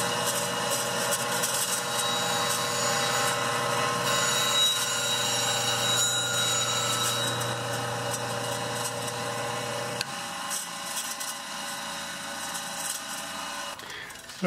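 A parting tool blade held against a bench grinding wheel produces a steady, tonal, whining grind with a motor hum underneath, close and continuous, before the wheel sound drops in level near the end.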